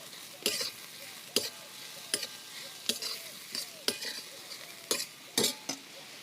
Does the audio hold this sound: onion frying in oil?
yes